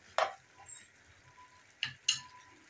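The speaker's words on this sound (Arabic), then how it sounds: "اقلبها كده عشان تتشوح كويس جدا من الناحيه التانية" Chicken pieces flipped and seared in a pan for a potato-and-chicken tray bake: three short clinks of utensil on pan over a faint, steady sizzle, the first near 0.2 seconds and two close together near the end.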